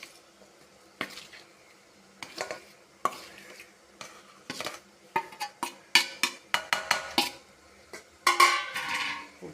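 Ragi and wheat flour being mixed with hot water in a bowl: intermittent clinks and scrapes of a spoon against the bowl, growing busier and closer toward the end, with no talking.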